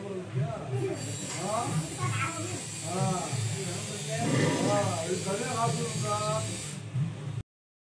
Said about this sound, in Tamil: திறந்து பார்த்தோம்னா நமக்கு கேஸ் சவுண்டு வருது